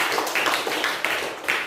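A classroom of students applauds a presenting group, a dense burst of many hands clapping together in quick, uneven pulses, loud and close, with no speech over it.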